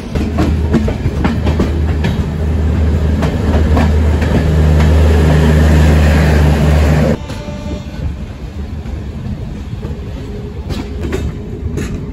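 Loud, continuous rumble and clatter of two trains rolling past in opposite directions on tracks either side, easing partway through as one passes, with ongoing rail noise, on an Indian express train journey.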